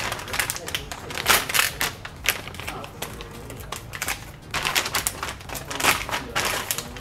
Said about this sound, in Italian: La scartiamo, la apriamo.